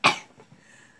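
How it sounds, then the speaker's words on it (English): A single sharp cough from a person, loud and close, trailing off quickly into quiet room tone. "it's like you just coughed this out"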